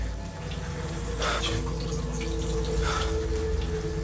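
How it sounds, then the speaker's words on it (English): A kitchen tap runs steadily, a continuous close rushing hiss of water with slight splashing swells, heard alone without talk. "Water's running in the kitchen."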